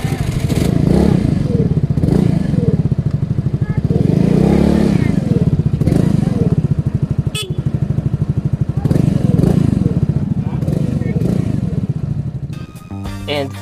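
Skydrive Crossover 115cc scooter exhaust rumbling loudly up close, with pulsing revs that rise and fall in several waves before dropping off near the end, plus some clattering.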